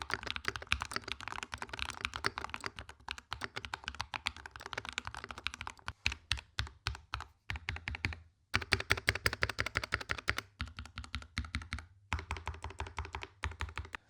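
A mechanical keyboard clatters under steady fast typing, with dense close key clicks and thocks broken by a few brief pauses.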